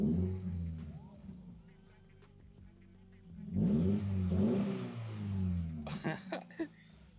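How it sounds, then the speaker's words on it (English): Toyota GR86 with a single exit catback exhaust idling with a deep tone, then blipped in two quick, close revs, followed by a shorter throttle stab before it drops back. "I'm gonna give it a little rev"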